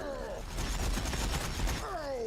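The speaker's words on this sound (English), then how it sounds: "Stop shooting at me!" Video game gunfire erupts as a dense burst of rapid shots lasting about a second, framed by excited shouting voices before and after.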